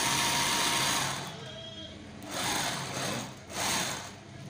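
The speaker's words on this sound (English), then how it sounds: "So after doing that, I'll have to top stitch." A sewing machine top stitches a senator suit pocket, running in a steady whirring drone that swells and eases in short stretches.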